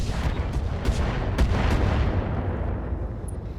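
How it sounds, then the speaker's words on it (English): Mech weapons firing and striking targets in the RogueTech game, a dense rumbling barrage of heavy booms and thuds with several sharper impacts standing out, loud and continuous throughout. "We actually landed some pretty solid shots there."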